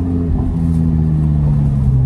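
A tuned car engine revving with a deep, steady rumble and a throaty growl, close and loud throughout.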